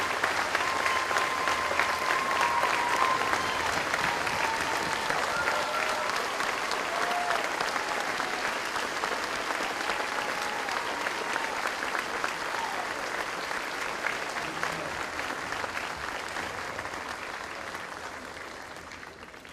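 A large graduation audience applauds an honor graduate in a long, sustained ovation of dense clapping with a few whoops and cheers mixed in, slowly easing off toward the end.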